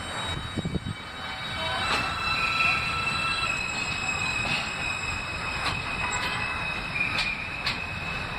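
A subway train, an F local on the elevated Culver Line toward Stillwell Avenue, rumbles steadily along the track with metallic wheel squeals and rhythmic clacks, heard from inside the car, no talking.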